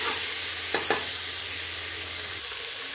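Chopped tomato and peeled, chopped potato fry in a pan, with a soft steady sizzle and a couple of quick stirring scrapes close by, fairly quiet and with no talk.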